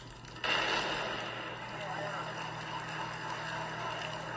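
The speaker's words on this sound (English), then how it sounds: "The explosion is caused by a chemical reaction." Magnesium burning in a truck depot fire in St. Louis, 1997, erupting when a water stream hits it: a sudden loud burst followed by a sustained broad roaring rush that stays steady and close.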